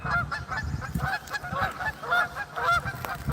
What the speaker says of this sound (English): There's a major goose fight going on back there.